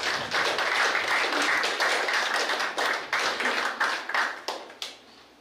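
Audience applause at an FSM International Youth Day event: dense, steady clapping from a crowd that holds strong for several seconds, then thins into scattered individual claps and fades.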